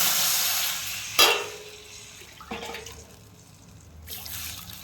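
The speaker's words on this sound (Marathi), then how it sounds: "आता ह्याच्यात आपण पाणी टाकणार" Water poured into a hot pan of oil and cumin sizzles loudly at first, then fades, with a few sharp splashing bursts as more water hits the pan.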